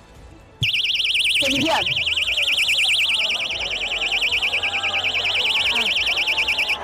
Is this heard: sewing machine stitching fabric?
no